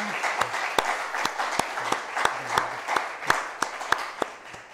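A church congregation claps together in celebration, steady and fairly loud, with sharp beats landing in an even rhythm of about two to three per second for several seconds.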